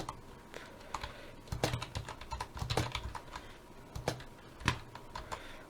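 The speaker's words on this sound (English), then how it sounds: "I still need to get used to this keyboard." Typing on a new computer keyboard, with quick irregular keystrokes and a few louder clacks, close up and without talk.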